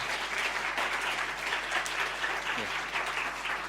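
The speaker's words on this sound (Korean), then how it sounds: "다 같이 한번 일어서 주시고 박수로 한번 격려하겠습니다." A church congregation applauds while standing, a dense sustained clapping that fills the room evenly throughout, moderately distant.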